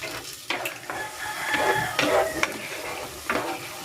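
Egg sarciado sauce bubbling and sizzling in a pan at close range, with a few clinks of a utensil stirring, fairly quiet.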